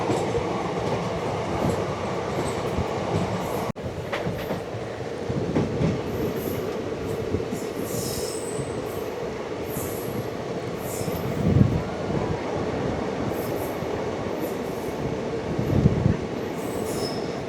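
The 13431 Balurghat Express runs between Azimganj and Malda Town, heard from on board. A constant rumble of wheels on rails carries occasional squeals and a few heavier thumps, close and steady, with no talk.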